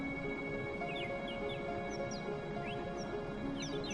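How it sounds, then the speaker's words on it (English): Birds chirp in Final Fantasy VII, giving short, faint repeated tweets over a steady, dense game ambience of hum and rustle, with no talking. "You can hear some birds chirping."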